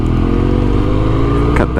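Motorcycle ride picked up through a Schuberth C3 Lite helmet mic: a steady, loud engine drone with rumbling low harmonics and wind roar, continuous throughout, with a brief rev near the end.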